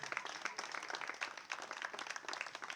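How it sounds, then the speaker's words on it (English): Faint, distant applause from a crowd, a dense patter of many hands clapping continuously. "Can we give him a round of applause, please?"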